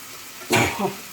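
Tomato rice cooks in a pan as a low sizzle, then a short burst of stirring and scraping is followed by a smaller second scrape, close by and brief.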